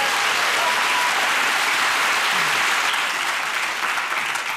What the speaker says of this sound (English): So now I'm worried about the applause.